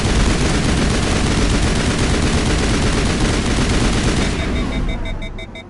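Automatic rifle bursts rattle out in a dense, continuous barrage of gunfire during a Mass Effect firefight, loud and close, then tail off toward the end.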